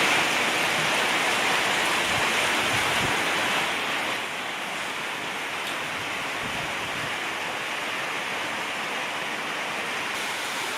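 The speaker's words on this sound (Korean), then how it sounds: "이게 빗소리예요." Heavy rain pounds a tin roof over a makeshift brick-walled classroom building, a dense, loud, unbroken roar that holds steady throughout with no talking.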